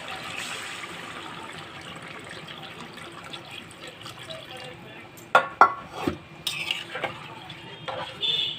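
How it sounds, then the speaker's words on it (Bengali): Water is poured into a pan of spiced elephant-foot taro that has been sautéed with masala, a soft trickle and stirring, followed by a few sharp clinks of utensil against the pan. "মশলা দিয়ে এইটা কষানো হয়ে গেছে ঘটকচুটা এবার জল দিয়ে দিচ্ছি"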